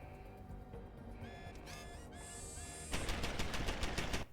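Turret gunfire in the video game Deus Ex: Human Revolution: rapid, steady bursts of automatic shots that grow louder and denser partway through, with electronic beeps over the first half.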